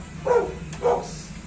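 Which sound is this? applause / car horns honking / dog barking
dog barking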